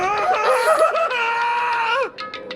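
A character in the game Danganronpa 2 lets out a long, loud, wavering scream that rises and falls for about two seconds before breaking off into shorter strained cries.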